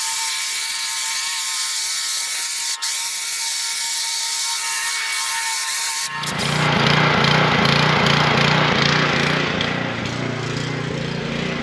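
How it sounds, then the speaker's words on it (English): A pressure washer is started up beside a boat being readied for launch, turning a steady high hiss into a loud, close, continuous motor roar with rough pulsing and high spray noise. "Power washer's fired up."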